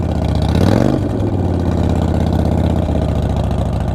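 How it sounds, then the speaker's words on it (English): A 2014 Harley-Davidson Breakout FXSB motorcycle idles close by with a steady, deep engine rumble, which swells briefly in a short rev before settling back to an even idle. "We're gonna see if we can ride this Harley Breakout."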